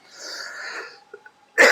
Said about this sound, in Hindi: खांसी बड़ा तगड़ा हो गया।